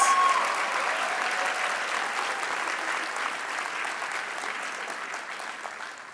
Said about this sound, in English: Can we please give a collective round of applause to all the winners?